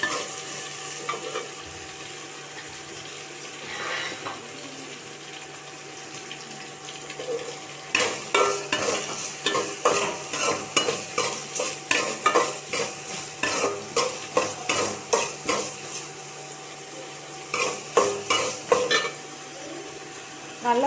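Onions stirred and sautéed in a pan with rock salt, a quiet stretch giving way to rhythmic scraping strokes of a spoon over a soft sizzle, close and steady, with no speech.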